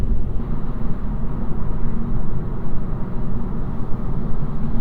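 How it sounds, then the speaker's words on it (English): Tire road noise inside a 2025 Honda Civic Sport Sedan cruising on a concrete highway: a steady, loud, low broadband roar with a fluttering rumble, no talking. "It's the road noise."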